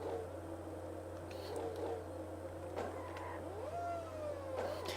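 A Formula 1 car engine in a Dreamcast racing game gives a thin, whiny, drill-like tone, quiet and rising in pitch through repeated revs.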